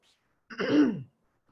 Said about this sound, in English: I'm not going to be having this cough today.